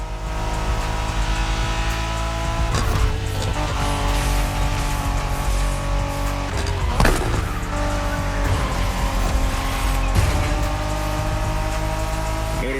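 Race cars in The Crew Motorfest during a Japanese street race, engines droning steadily with tyre squeals and skids breaking through, loud and continuous with no talk.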